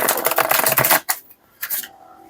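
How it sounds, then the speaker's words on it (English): A new, stiff tarot deck is riffle-shuffled, giving a fast crackling flutter of cards for about a second, followed by a couple of short brushing riffles and taps. "I want to see how these shuffle."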